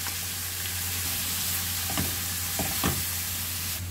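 Meat and onions fry in a pan with a loud, constant close sizzle, a few soft stirring knocks breaking through the hiss.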